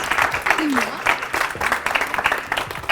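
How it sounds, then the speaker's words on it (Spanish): A school audience at IES Haygón applauds Luis, a fairly close, rhythmic patter of clapping with a voice briefly audible underneath. "Un aplauso a Luis."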